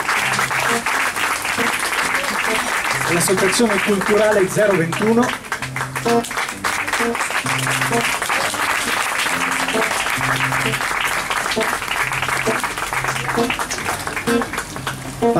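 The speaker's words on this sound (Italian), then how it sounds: "alla quale farei un applauso" Applause from an audience at a music evening, steady clapping running the full length underneath someone speaking into a microphone.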